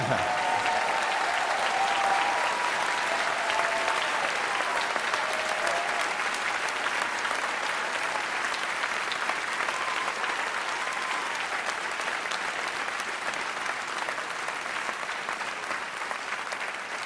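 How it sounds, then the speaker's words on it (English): Sustained audience applause for medical students at the Class of 2024 white coat ceremony, a dense, steady wash of many hands clapping that holds for the whole stretch and eases slightly near the end. "How about a round of applause for these students?"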